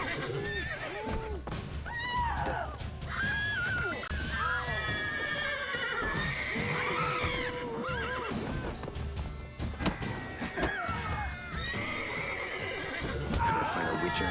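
Horses neighing repeatedly in The Witcher 3: Wild Hunt, loud whinnies rising and falling over clip-clopping hooves, with a voice talking at times.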